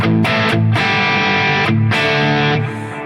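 Crunchy distorted electric guitar played through an Axe-FX modeling a 1970 Plexi 100-watt amp, loud chords with short pauses and rhythmic breaks, played alone.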